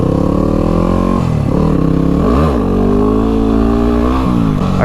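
A motorcycle revs and accelerates close by, its engine note rising and dipping through several gear changes in a loud, continuous roar.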